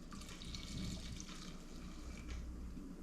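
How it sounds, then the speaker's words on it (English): Apple cider vinegar pours into a pan for jalapeno jelly, a short, steady, close liquid splash and trickle. "I will add the rest of my apple cider vinegar"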